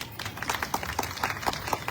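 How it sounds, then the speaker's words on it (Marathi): Audience at a women's Home Minister and haldi-kumkum event in Badlapur clapping together, a fairly faint, steady patter of many hands with rhythmic group claps landing about every quarter second. "स्वतःसाठी एकदा टाळ्या"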